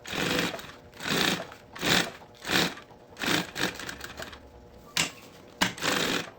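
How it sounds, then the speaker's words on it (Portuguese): A sewing machine stitches the lining seam of a handbag in short bursts of rapid mechanical whirring and clatter, stopping and starting about eight times, close and clear. "E agora eu vou passar essa costura em toda a volta aqui, pra deixar esse forro bem preso."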